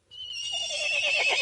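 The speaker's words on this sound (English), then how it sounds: "And here's a horse," A horse's neigh is heard alone as a recorded animal call, a loud whinny of about a second and a half with a quavering, falling tail.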